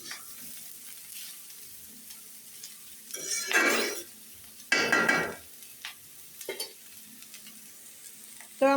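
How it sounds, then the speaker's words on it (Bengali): Small fish frying with potato and pointed gourd in a pan, heard as intermittent bursts of loud sizzling between quieter stretches, with occasional clinks of a utensil stirring against the pan. "সেই জন্য মাছ দেওয়ার পর 2 মিনিটের মতো ভেজে নিতে হবে।"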